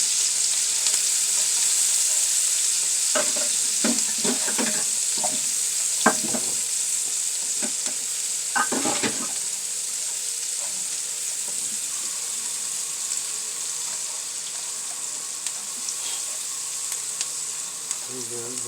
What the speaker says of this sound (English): we're just going to saute and simmer some onions